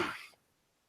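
A single short, harsh cough at the start, close and fairly loud, followed by near silence and a brief sound at the very end.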